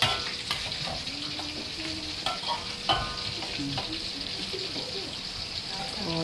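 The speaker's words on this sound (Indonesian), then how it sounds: "goreng sikit pun dia garing elok" Anchovies fry in a pan at home, with a steady sizzle and crackle under occasional stirring clinks and scrapes, while people talk quietly nearby.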